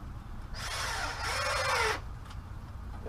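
A power drill drives a screw into the center 2x4 of a wooden sawhorse, one steady whirring run of about a second and a half that winds down as the screw seats, heard up close against a low background hum.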